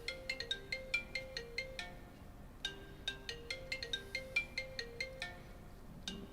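A phone ringtone plays a bright repeating electronic melody of quick plucked notes, looping in a steady pattern at moderate volume with no talking.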